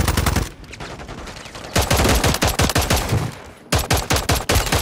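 Pistol fire in the Warzone shooter: rapid bursts of sharp, loud cracks in clustered volleys with brief gaps, close and dominating.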